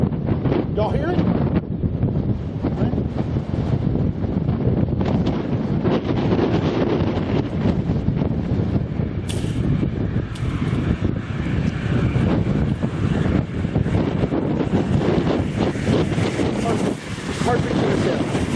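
A tornado near Chickasha, Oklahoma, heard as a constant loud roaring rumble mixed with heavy wind buffeting on the microphone, steady throughout.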